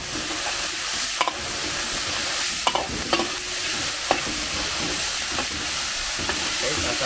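Meat sizzles steadily in a pan with garlic and onion, a broad frying hiss running throughout, broken by several sharp scrapes and clacks of a utensil stirring it. No one talks.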